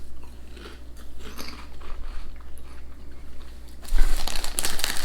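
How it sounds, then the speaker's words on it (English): Crunching on UK shrimp-flavoured crisps, a run of crackly bites and chewing close to the mic that grows louder and denser toward the end. "let me try crunching them"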